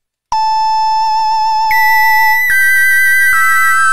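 Super Mario Paint Mario sound effect in a soundfont version: a bright synthetic tone starting abruptly, then stepping through several pitch changes with small clicks at each step, loud and alone.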